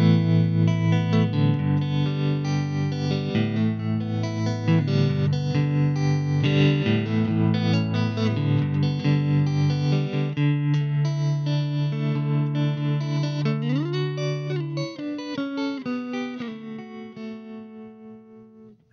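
Electric guitar played on the rhythm pickup alone through a 1968 Fender Princeton Reverb tube amp, with sustained chords and notes ringing warm and slightly driven, ending in a few bent, sliding notes.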